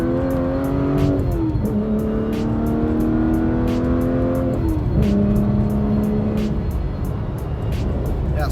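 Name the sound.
Aston Martin Vanquish V12 engine accelerating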